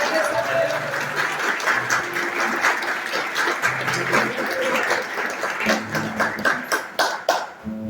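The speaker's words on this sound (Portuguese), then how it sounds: "se você puder, aplauda a renovação carismática católica." A church audience claps steadily at a Catholic Charismatic Renewal gathering. The dense applause continues throughout, with musical tones and voices faintly underneath.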